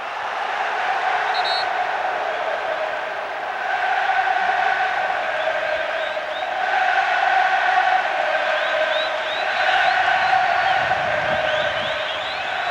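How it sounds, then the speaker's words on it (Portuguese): Fluminense supporters roar steadily through a packed stadium during a 1998 Campeonato Carioca match against Vasco, a dense, continuous crowd din with swelling waves of cheering and whoops heard from a distance. "Faz barulho a torcida do Fluminense."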